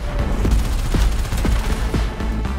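Vidar Carcinox pilot gun in the video game Warframe firing a steady stream of loud, rapid shots, with several punchy bursts over a continuous mechanical clatter and no voices.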